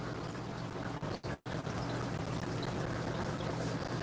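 Water running steadily near a house, a continuous broadband rush and gurgle with a brief dip partway through, otherwise even and unbroken, no voices.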